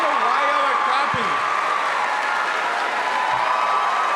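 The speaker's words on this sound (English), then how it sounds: "I don't know why y'all are clapping." An audience at a political debate applauds steadily throughout, a dense wash of clapping from the crowd that keeps going while someone speaks over it.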